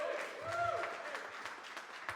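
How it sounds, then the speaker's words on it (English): Audience applause at a comedy show, faint scattered clapping with some crowd murmur and a few louder individual claps. "Everyone give a round of applause to Benji."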